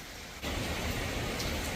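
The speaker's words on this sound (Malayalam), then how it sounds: "ഇപ്പോഴും നല്ല മഴ പെയ്തുകൊണ്ടിരിക്കുകയാണ്" Heavy rain falls in a steady, dense hiss that swells suddenly after a quieter opening and then holds constant and fairly close.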